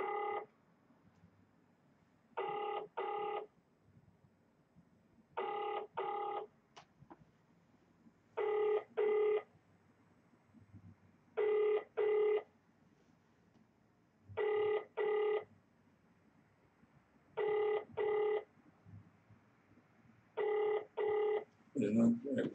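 A telephone rings out unanswered in repeated double bursts, about eight evenly spaced ring pairs over twenty seconds, clear against a quiet background.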